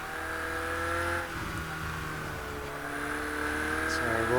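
A Ferrari 488 GTE race car engine drones steadily in a racing sim, then drops pitch at a gear change and climbs again as it accelerates, loud and close.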